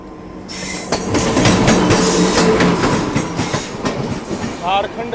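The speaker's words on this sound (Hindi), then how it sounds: "झारखंड संपर्क क्रांति एक्सप्रेस" The Jharkhand Sampark Kranti Express, running Ranchi to Anand Vihar Terminal, rolls past close by with loud rhythmic clickety-clack, rumbling wagons and brief wheel squeal, and faint voices sound in the background.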